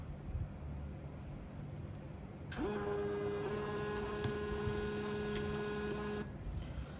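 A Panda PRJ-58D thermal printer prints a Shopee shipping label, starting after a few seconds of quiet room tone with a steady whirring motor hum for about four seconds, then stopping abruptly.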